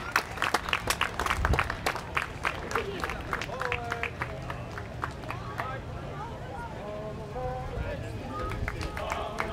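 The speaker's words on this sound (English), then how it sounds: "Give them a big round of applause." Outdoor crowd at a small-town parade applauding and cheering as newly enlisted Navy sailors pass, sharp claps strongest in the first seconds then thinning into a steady murmur with voices and street noise.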